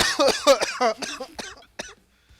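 Several sharp, loud coughs in a quick burst, then fainter hacking trailing off into quiet, close to the listener.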